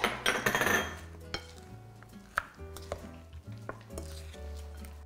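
Spoon stirring a batter of sliced zucchini, red chili and shrimp mixed with pancake or frying flour for Korean jeon, with soft wet scraping and occasional clinks against the bowl, close and alone without talk.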